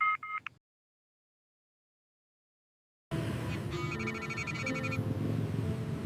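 A telephone rings for an incoming call: a brief electronic ring, then a pause of silence, then a longer melodic ringtone playing close and clear.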